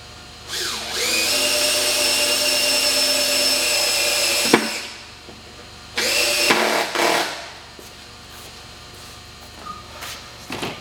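A power drill driving screws into a bath display board whines in two bursts, a long steady run and then a shorter one, with quiet pauses between.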